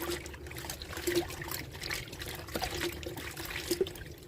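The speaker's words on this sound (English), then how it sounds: "just a really good rinse like that" White cotton underwear rinsed by hand in a basin, producing close trickling, dribbling and sloshing water with small splashes, steady and without talk.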